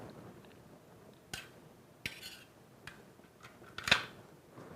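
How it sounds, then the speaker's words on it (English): A plastic back cover slid into place on a Saffire LX electronic lock, giving a few faint clicks and light scrapes, then a sharper snap near the end, in a quiet room. "let's slide the cover back in place, making sure the thumb turn is pointed upwards"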